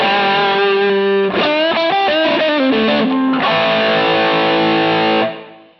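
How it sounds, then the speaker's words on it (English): Distorted electric guitar through a Harley Benton DNAfx GiT Pro modeler on a 4x10 cabinet, loud and sustained with chords and riffs for about five seconds before ringing out alone. "Turn the distortion on."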